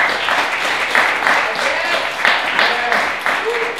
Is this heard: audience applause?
yes